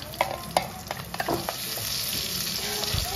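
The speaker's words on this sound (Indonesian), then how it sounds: "Sekarang saya mau tumis sampai pecah minyak dulu." Beef heart and liver sauté in plenty of hot oil, a close, steady sizzle broken by scraping stirs and clicks of a utensil against the pan.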